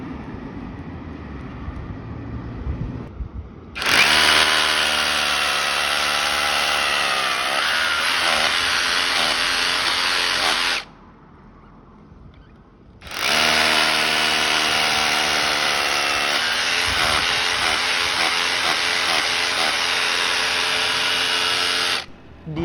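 A power tool whines loudly in two long bursts of about seven and nine seconds, separated by a short pause, while driving screws during electrical work by a novice electrician.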